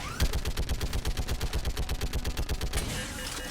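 Rapid automatic gunfire in the video game Mass Effect 3, a loud sustained burst of evenly spaced shots lasting a few seconds, then a fading tail.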